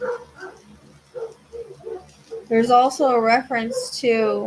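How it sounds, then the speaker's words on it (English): Dogs bark and yip loudly in the home, a burst of sharp, tonal barks in the second half over a person talking. "I'm sorry about my dogs."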